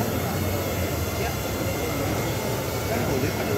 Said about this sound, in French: Encore un petit drone.